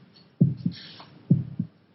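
A slow, muffled heartbeat thumps twice, each beat a soft double pulse, low and close in otherwise quiet surroundings.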